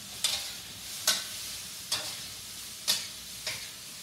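Shrimp sautéing in a pan, five short bright stirring scrapes spaced about a second apart over a low, steady background sizzle, fairly quiet and close.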